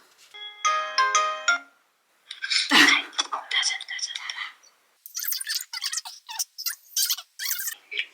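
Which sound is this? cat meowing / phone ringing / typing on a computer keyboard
phone ringing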